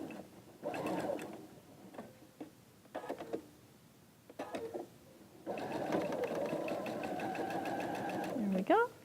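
A sewing machine stitches a quilt block seam in bursts, starting and stopping between quieter handling sounds and a brief voice, then running steadily for several seconds near and clear.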